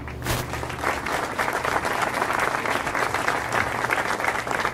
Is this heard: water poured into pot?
no